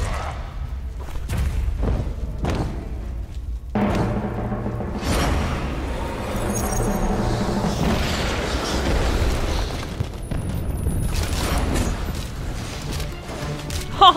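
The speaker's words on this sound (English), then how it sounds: "The cannons! Fire the cannons!" Cannon fire in the video game Costume Quest, a run of loud booming blasts layered over busy game music and effects, continuing steadily throughout.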